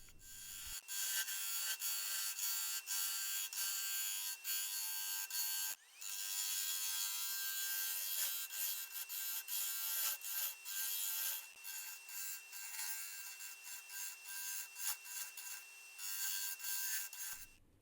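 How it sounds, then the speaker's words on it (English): Continuous abrasive sanding on a turned yew wood bowl, a steady loud rasping hiss with brief pauses and rhythmic strokes, close by with no talking. "Sanding."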